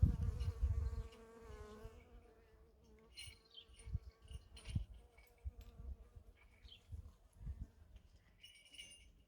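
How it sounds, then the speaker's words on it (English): Honeybees and bumblebees buzz around plants in a sunny garden. A steady close hum comes at first, then wavering drones drift near and away, faint overall and with no talk. "it's great to see honeybees at long last. Bumblebees are always welcome as well."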